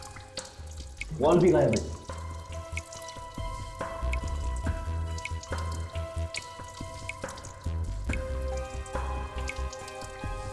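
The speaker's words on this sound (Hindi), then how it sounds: "यहां से पानी टपक रहा है, मुझे मालूम था।" Water drips from a leak beneath a toilet whose flush tank valve is missing, small repeated drips heard close up over a steady background hum while someone speaks.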